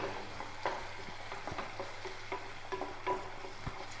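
Capsicum frying in a pan, giving a soft, steady sizzle with scattered light clicks and stirring taps close by, with no voices.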